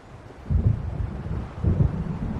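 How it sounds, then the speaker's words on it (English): Low rumbles of thunder from an approaching storm by the sea in Alan Wake Remastered, two deep swells rolling in at a distance over a steady windy hiss. "It seems there's a storm coming."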